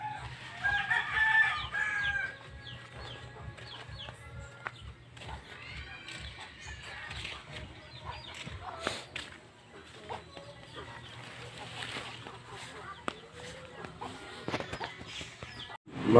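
Chickens cluck and a rooster crows in a rural yard, moderately distant, with scattered bird calls and some quiet talk mixed in over about sixteen seconds.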